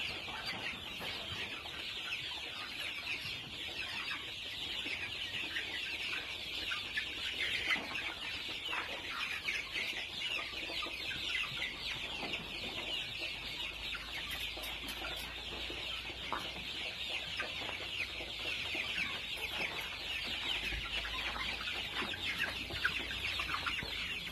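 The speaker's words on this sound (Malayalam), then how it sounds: "ഗ്രാമപ്രിയ പൂവന്മാരാണെന്ന് മാത്രം ഒരു അഞ്ഞൂറ് കുഞ്ഞുങ്ങളുണ്ട്" A flock of about five hundred Gramapriya rooster chicks clucks and cheeps nonstop, a dense, steady chatter close by with no voices.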